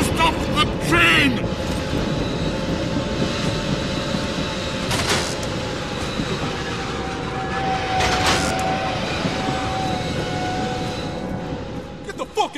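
A train rolls through the Tharsis Refinery in Killzone 2 with a continuous rumbling, rattling drone and occasional sharp metallic clanks, fairly loud and steady throughout, with voices talking over it.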